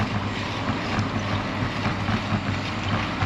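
Steady, loud wind buffeting the microphone while cycling, a continuous roar of gusts with no break across the whole stretch.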